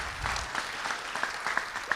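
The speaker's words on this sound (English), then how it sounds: "Round of applause." Moderate audience applause at a community safety forum, a room of people clapping in a busy rhythm with a few louder individual claps standing out.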